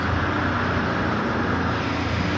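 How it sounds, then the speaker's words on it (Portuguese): Steady low rumble of a Volvo VNL 860 truck, an American-spec rig with its exhaust close by, a continuous even drone with no talking. "Rapaz, sério. Olha o escapamento."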